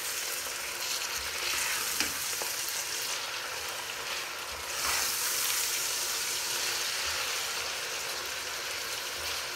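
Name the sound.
onions frying in a pan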